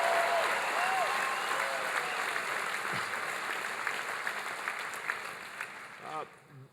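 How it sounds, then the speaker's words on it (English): Sustained audience applause fills a town hall meeting hall, dense clapping from a crowd that holds steady, then thins and fades near the end, with a faint voice briefly audible over it. "Give them a big round of applause."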